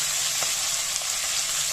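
A fish head frying in hot oil in a Bengali kitchen gives a steady, bright sizzle that holds level for the whole stretch, with a few faint soft ticks and no voices.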